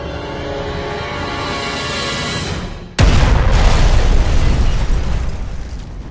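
A thrown explosive detonates in GTA 5 with a sudden loud boom that follows a steady rising rumble, then a dense crackling roar that slowly fades away, with no voices over it.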